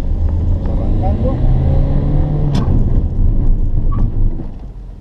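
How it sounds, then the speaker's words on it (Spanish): A Peugeot 208 brakes hard on an uneven road with ABS engaged, giving a loud, steady low rumble of tyres and road noise, with a brief sharp transient midway and fading toward the end. "estamos en un piso irregular y funcionan bien el sistema antibloqueo de este automóvil"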